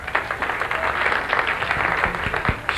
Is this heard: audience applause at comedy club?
yes